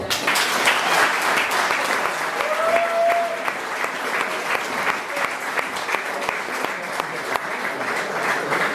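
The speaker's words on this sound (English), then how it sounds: "need a huge round of applause" A crowd at an end-of-season awards night claps steadily and enthusiastically for several seconds, a dense, sustained wash of applause.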